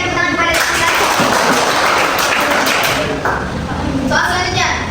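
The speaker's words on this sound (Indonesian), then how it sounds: "berikan tepuk tangan kepada teman kita" A classroom of students applauds a classmate with dense, steady clapping that fills the whole stretch, with voices mixed into the noise.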